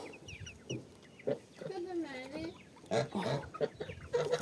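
Crested hens cluck and warble nearby in short bursts, with one drawn-out rising call in the middle.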